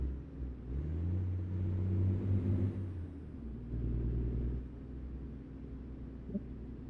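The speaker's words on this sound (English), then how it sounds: "Truck sounds nice. It does. It's got that lovely deep throaty, and it just feels like it can do this." A truck engine gives a deep, throaty low rumble while driving, swelling as it pulls harder and then easing back to a steady drone, heard from inside the cab with no talk over it.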